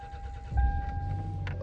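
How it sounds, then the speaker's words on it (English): A 1999 Toyota Camry engine cranks and catches, settling into a low idle rumble, with a faint electronic chime tone running throughout. "So we're going to crank this baby up."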